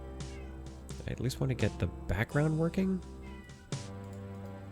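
A pet cat meows in short, rising cries close by, mixed in with a person talking over it at a desk.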